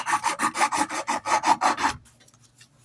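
Hand-sanding a wooden knife handle, about ten quick rhythmic rasping strokes close up, then stopping into quieter faint scraping.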